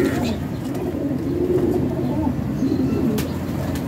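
Pigeons coo steadily in soft, low, rolling calls close by, with a voice talking over them.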